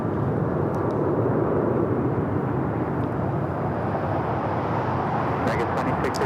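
Alaska Airlines Boeing 737-900ER arriving at LAX from Portland, a steady broadband jet rumble at moderate distance, with a voice talking over it at times.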